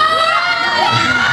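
An audience of girls at a Dirty Dancing show shouts and screams as loudly as they can. It is a dense, very loud burst of high crowd cheering that lasts throughout.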